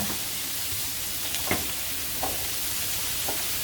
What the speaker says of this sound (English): The zucchini cooks really quick. Just saute it and for a couple of minutes